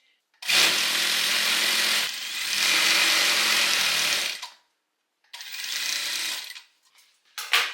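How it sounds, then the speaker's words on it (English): A sewing machine runs a straight stitch down a denim seam in three loud, steady bursts of whirring, broken by short pauses, with a brief start-up at the very end and no talking. "we're just going to go to the machine now and sew this all the way down using a straight stitch"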